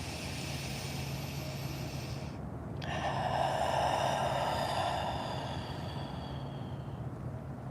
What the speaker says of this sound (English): Nice inhales and exhales here.